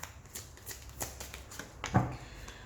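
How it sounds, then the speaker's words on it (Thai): Tarot cards are shuffled close by in a few quick, soft riffling bursts, the last one slightly louder, against a quiet room. "ขอดูไพ่คำแนะนำหน่อยนะคะ"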